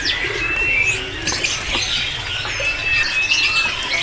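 Caged black starlings chirp and whistle continuously at a bird kiosk, several birds calling over one another at close range with steady background noise and no talking.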